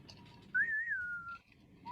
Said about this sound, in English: Would you stop whistling